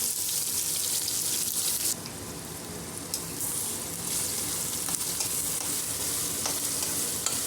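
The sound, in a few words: onions and curry leaves frying in hot oil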